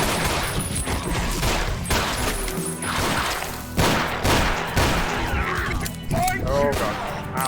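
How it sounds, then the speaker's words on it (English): Revolver shots fired in the Doom-engine game Ashes 2063 during a garage and outskirts shootout, sharp bursts landing among dense game noise, music and occasional talk. "Sometimes it takes one revolver shot to bring them down, sometimes it takes two."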